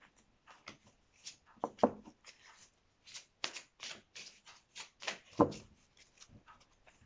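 Oracle cards, an angels-of-love deck, being shuffled and drawn by hand, giving a close, soft series of papery riffles and taps with a few sharper flicks, under quiet surroundings with no talk.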